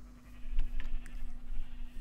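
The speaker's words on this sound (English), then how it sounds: "So here's our sheep, but there's our grey sheep." Sheep on a video game farm bleat a few times, faint and thin, over a low steady hum and background noise, with no speech.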